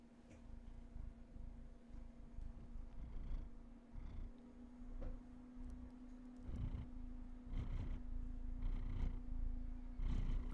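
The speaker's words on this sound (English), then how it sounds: "Can you purr into the microphone?" Steve the cat purrs right into a microphone, a soft, continuous low rumble with a rhythmic pulse that goes on for about ten seconds over a faint steady electrical hum.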